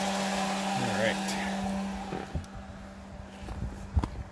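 Outdoor road traffic, vehicles passing at a distance with a low rumble, a steady hum from a nearby turbine running throughout, faint overall.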